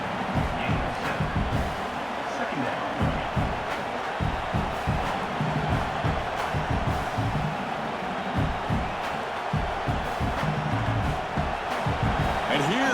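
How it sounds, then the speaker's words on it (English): A loud, continuous stadium crowd roar from a College Football 26 video game, Tennessee at Oklahoma, with indistinct voices and swells of noise that stay steady for the whole stretch. "Comes the noise. This crowd is trying to inspire this defense"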